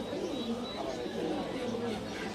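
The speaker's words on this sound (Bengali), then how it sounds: "খয়রাগলা একটি নর কবুতর আপনাদেরকে দেখাচ্ছি" Male pigeons coo at a busy open-air pigeon market in Bangladesh, low murmuring calls repeating under steady crowd chatter and the voices of traders nearby.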